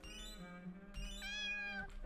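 A cat in an RPG Maker 2003 game gives two clear, high, drawn-out meows in quick succession, close and fairly quiet, with no talking.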